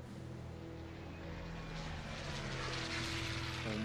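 A propeller plane drones overhead in the adventure game Secret Files: Tunguska, a faint, steady buzz that swells slightly louder toward the end.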